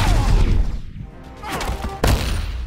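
Donatello's shell shot attack in the fighting game Injustice 2 lands as a loud burst of rapid impacts and crashes, with a heavy hit near the end.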